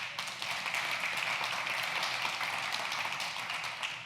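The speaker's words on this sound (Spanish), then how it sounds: "Dale un fuerte aplauso al Señor." A church congregation applauds together, a dense continuous wash of many hands clapping that holds steady and full throughout, moderately distant with no voices on top.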